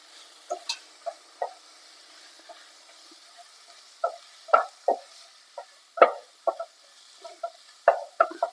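Stirring coriander and mint leaves into frying Madurai roadside-stall style chicken salna, with a faint sizzle under a series of soft scraping strokes, sparse at first and then quicker and denser toward the end, close and moderately loud.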